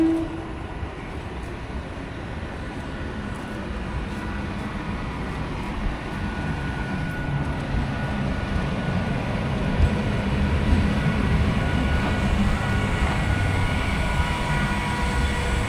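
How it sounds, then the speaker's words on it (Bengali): A Sealdah-bound train rolls into Ichapur station with a continuous low rumble that slowly swells as it approaches, steady broadband noise with no voices. "এই যে শিয়ালদা যাওয়ার ট্রেন ঢুকছে।"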